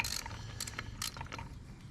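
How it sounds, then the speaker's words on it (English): Hand ratchet tightening bolts on the clamps of a John Deere 4020 tractor during reassembly, giving a series of close, quick clicking bursts in uneven spurts over a low background rumble. "just have to tighten these bolts up on these clamps"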